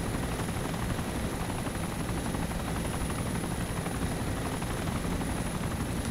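A helicopter in the video game Arma 2 with the DayZ Origins mod, its rotor and engine producing a constant loud, dense whir with a steady high whine, unbroken throughout.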